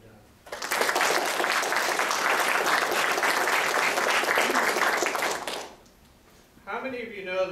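An audience at a Master's Three Minute Thesis competition breaks into loud, dense, sustained applause lasting about five seconds, then fades out before a speaker begins talking.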